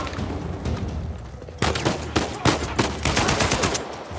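AK-47 fire in Uncharted 4 breaks out after a quiet start as loud automatic bursts, crackling in quick, uneven volleys with a few sharper reports.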